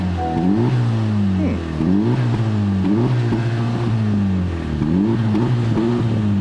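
A Honda Civic Type R engine revs repeatedly to its fairly low rev limiter, a loud, steady series of rising pulls that bounce off the limiter about once a second, heard close and alone.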